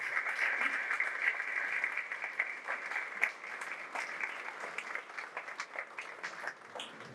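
A church congregation applauds steadily throughout, a dense continuous wash of many hands clapping at moderate distance, with a brief voice or cheer rising briefly in the middle.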